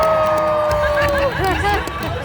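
An audience at an animal actors show at Universal Studios Hollywood cheers and calls out as a dog runs at a hurdle, a loud crowd with mixed shouts and whoops under a continuous babble.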